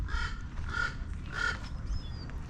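Three harsh caws from a crow ring out in a steady rhythm at moderate distance in Los Angeles, over faint low background rumble.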